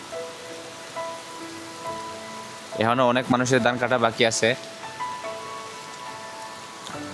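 Heavy morning rain pouring steadily on an overcast day, a constant near hiss of falling water while someone talks over it for a few seconds.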